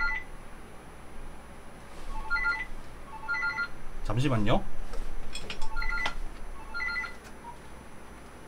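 A telephone gives repeated short electronic ring bursts at a steady interval in a classroom lecture setting, close and clear, while a person speaks briefly between the rings.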